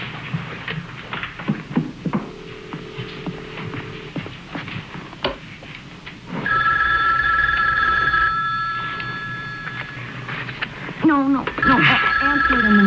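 A telephone rings in a tense 1970s horror drama, repeated electronic ring bursts starting midway and continuing steadily, clear and close, with brief talk and room noise before the ringing begins.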